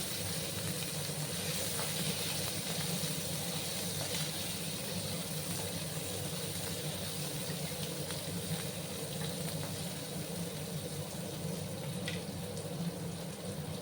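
Chopped tomato hits hot oil in a frying pan with Tangra fish, giving a steady, loud sizzling hiss that holds without a break from start to finish.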